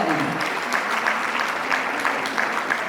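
Audience applause at a Hindi-language program gathering, dense steady clapping from a crowd filling the whole moment, fairly loud and continuous.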